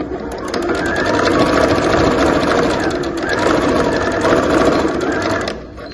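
A sewing machine runs a short backstitch to close a fabric lining, giving a loud, fast, steady mechanical whir that holds for several seconds up close, then cuts off at the end.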